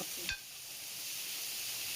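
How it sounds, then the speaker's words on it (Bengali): Cabbage, pointed gourd and long beans frying in a pan, a continuous hiss with a brief clink of a utensil near the start. "বাঁধাকপি, পটল আর বরবটি দিয়ে একটু ভালো করে ভেজে নিচ্ছি"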